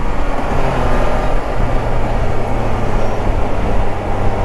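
A 2020 Can-Am Spyder RT three-wheeler pulls hard under acceleration, its engine a loud, steady, rumbling drone mixed with road and wind noise throughout, with no voices.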